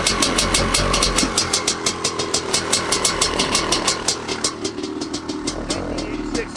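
A 1986 Honda CR500 two-stroke motorcycle engine idling just after a kickstart, a loud close rhythmic popping burble that lopes steadily and eases slightly, with a voice speaking over it.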